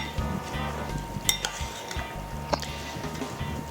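Crawfish tails get stirred into a pot of étouffée with metal tongs: scattered clinks and scrapes of metal against the pot over a soft cooking background.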